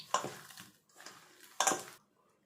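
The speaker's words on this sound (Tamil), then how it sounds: "எல்லாம் சேர்ந்து நல்லா கலந்து பிசைஞ்சு எடுத்துக்கலாம்." Flattened rice (aval) dough with coriander is mixed and kneaded in a bowl, heard as three short bursts of wet squishing and scraping against the bowl, close and fairly quiet, separated by brief pauses.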